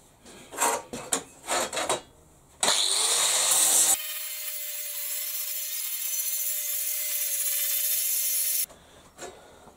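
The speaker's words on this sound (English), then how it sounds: "I'm going to give it a grind a minute." Grinder working a large, rough mercury dragster engine part: a harsh, loud abrasive whine holds steadily for several seconds, up close, after some scraping and knocking handling noises, with no talk.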